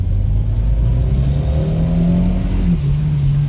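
A Volvo 940 Turbo accelerates hard from low revs with the pedal floored, its engine note climbing steadily and loudly close by, with a brief wheel spin along the way.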